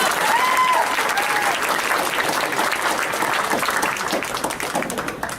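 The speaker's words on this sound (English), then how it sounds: "Come on, give her a round of applause." An audience applauds steadily for several seconds, a dense wash of clapping that tapers slightly at the end.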